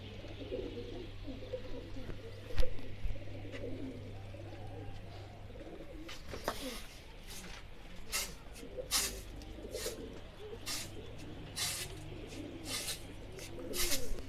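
Racing pigeons coo steadily during a pigeon-flying contest against a rival, low rolling calls over a constant hum, joined later by sharp repeated clicks and taps.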